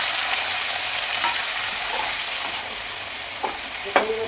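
Chopped bottle gourd with finely chopped garlic fries in a pan over medium heat, a loud continuous hiss and sizzle close by, with a few scraping stirs toward the end and no voices.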